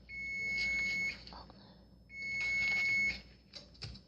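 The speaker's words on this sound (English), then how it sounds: "the timer just went off for our water" An electronic kitchen timer set for water while cooking shrimp fried rice gives two long, sustained high beeps about a second each, separated by a short gap, fairly loud and close, with faint kitchen clatter after.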